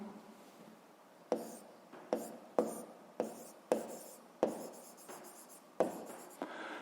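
A pen writes on paper during a Ukrainian seventh-grade physics lesson, making about eight crisp, scratchy strokes in a steady rhythm, close and fairly loud against a quiet room.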